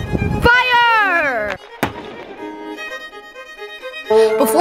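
A rifle volley fired on command at a military ceremony: a single sharp, loud crack follows shouted commands from a voice, then tonal ringing and more voices trail off behind it.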